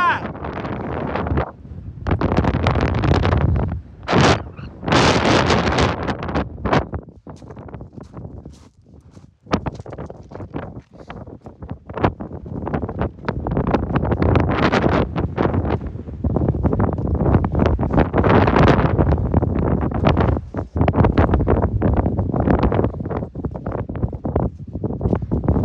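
Strong gusts of wind roar across the microphone in the Altai mountains in loud, broadband bursts with brief lulls.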